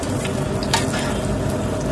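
An iftar snack fries in hot oil, giving a steady close sizzle with light crackling throughout and no speech.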